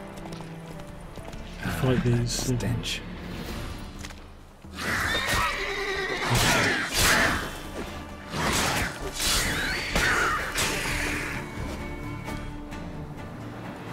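Horse neighing and hooves clattering in The Witcher 3 on PC, game action with splashes and crashes around it, while someone talks over it excitedly in bursts.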